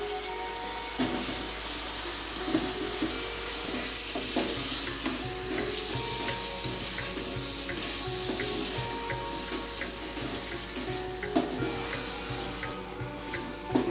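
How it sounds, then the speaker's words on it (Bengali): Onions and cashews fry in a pan with a steady, dense sizzle while a utensil stirs them, adding occasional soft scrapes and clinks; the sound is close and continuous with no talking. "পেঁয়াজগুলো দিয়ে কিন্তু আমি ঠিক 10-5 মিনিট নাড়াচাড়া করব"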